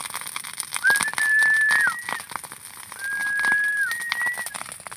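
Two long, clear tonal whistles, each held steady for about a second with slight pitch steps, over faint background clatter.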